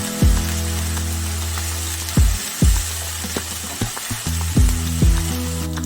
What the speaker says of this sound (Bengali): পেঁয়াজ, আদা, রসুনের কাঁচা গন্ধটা যাওয়া অবধি ভাজবো